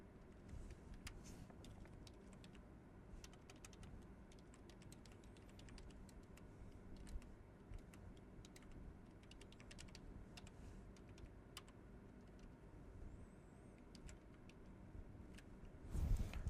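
Code being typed on a computer keyboard: a faint, steady patter of key clicks running on and off for over fifteen seconds in a quiet room, ending with a louder thump.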